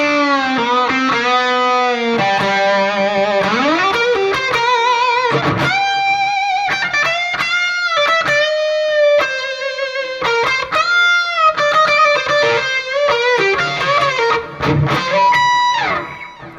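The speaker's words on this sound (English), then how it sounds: "when I put on the fuzz" Electric guitar driven through a fuzz pedal, playing a loud, thick, saturated rock-blues solo with bending sustained notes and quick runs, steady and up front throughout.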